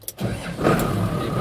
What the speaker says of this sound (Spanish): Ahí prendió el tractor.